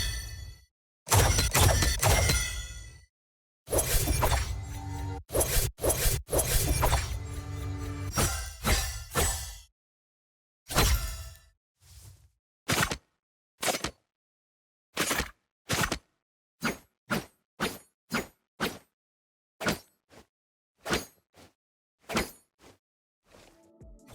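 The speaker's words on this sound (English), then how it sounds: "The Mystbloom Kunai sounds majestic, especially with the inspect animation, and then the audio for the equipper and swinging is incredible too." Valorant Mystbloom and Champions Kunai knife skins in action: a dense burst of shattering, swishing and metallic crashes from equip and inspect animations, followed by a spaced series of sharp, short slashing hits.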